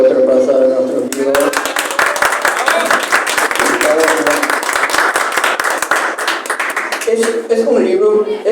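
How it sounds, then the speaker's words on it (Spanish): Audience clapping fills the middle of a graphic novel presentation at the FIL 2024 book fair, a lively burst of hands in a hall, with people speaking before and after it. "Merece otro aplauso de nuestro libro"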